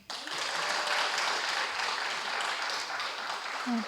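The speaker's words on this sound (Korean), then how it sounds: "한 번 더 박수 주세요" Audience applause at a church gathering, a steady round of clapping at moderate volume that continues for several seconds.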